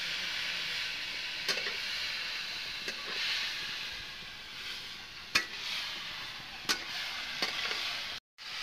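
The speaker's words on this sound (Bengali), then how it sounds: "দেখো আমি নাড়াচাড়া করে ভাজিয়ে দেবো" Potato and pumpkin stir-frying in a pan for a poppy-seed dish make a continuous, even sizzle, broken by several sharp scrapes and taps of the stirring utensil at irregular moments.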